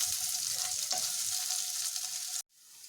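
Boiled potatoes, broken up by hand, sizzle steadily and loudly in a hot pan while they roast. The sound is one continuous frying hiss that cuts off abruptly near the end.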